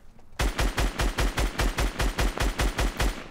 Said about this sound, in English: Dude, I missed every single one of my shots.